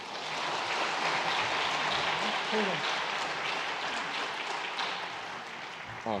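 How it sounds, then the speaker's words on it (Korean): A church congregation at a Sunday worship service claps together after a prayer, a broad, steady wash of applause from many people filling the sanctuary, with a few scattered voices audible beneath. "여러분 한번 박수하겠습니다."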